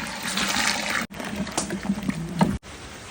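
Water is poured into a pot while making a large batch of payasam, a gushing, splashing flow heard close up in two short stretches separated by brief cuts.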